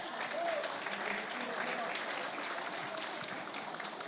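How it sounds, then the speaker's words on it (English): A crowd applauds the mayor with sustained, fairly even clapping, and voices are faintly mixed in beneath it. "Let's give the mayor a big hand of applause."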